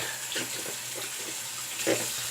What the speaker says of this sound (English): Rinse the brush real quick.